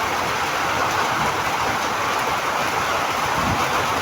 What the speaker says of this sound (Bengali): চলো দেখো বৃষ্টি, দেখো কীরকম বৃষ্টি হচ্ছে।